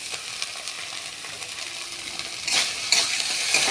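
Spoon stirring a thick ridge gourd peel paste with turmeric, cumin and sugar, giving soft, steady scraping and squelching, louder brushing strokes near the end.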